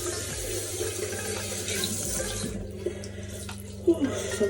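Cold water runs steadily from a sink tap, a continuous close splashing that cuts off partway, followed by a few small splashes and quiet movement.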